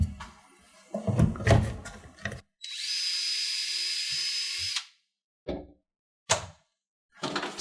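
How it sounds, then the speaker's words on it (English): A power drill whirs steadily for about two seconds, boring holes in wooden cabinet doors through a drill guide bushing, bracketed by knocks and clatter of wood being handled, then a few sharp taps. "I finished up drilling the doors"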